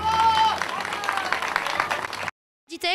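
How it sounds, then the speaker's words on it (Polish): A crowd at an illusion art festival gives a round of applause for the newly named champion, dense clapping lasting a couple of seconds before cutting off abruptly, followed by a brief voice. "Wielkie brawa dla mistrza!"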